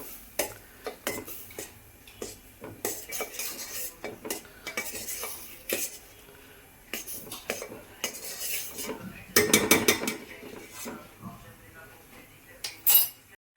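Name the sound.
stirring boiling cream in a pot to make ghee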